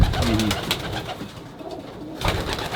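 Racing pigeons coo inside a loft, soft low throaty calls repeating close by, with a brief quieter gap before the cooing swells again.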